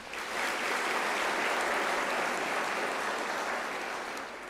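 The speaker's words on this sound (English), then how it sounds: "That deserves a hand of applause." A large audience at a university autumn graduation ceremony applauds in a dense, steady wash of clapping that swells in and fades slightly over a few seconds.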